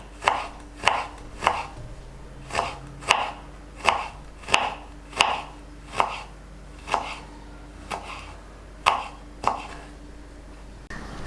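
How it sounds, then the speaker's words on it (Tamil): A knife slices vegetables thinly on a cutting board, giving a steady series of about fifteen crisp, close chops at an even rhythm with a faint hum underneath and no voices. "இந்த மாதிரி மெலிசாக ஸ்லைஸ் பண்ணுறோம்"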